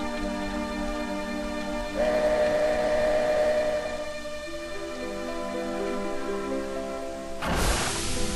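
A steam train from the Final Fantasy VII game whistles with sustained tonal blasts over a rumbling rail bed, ending in a sudden loud burst of hissing noise.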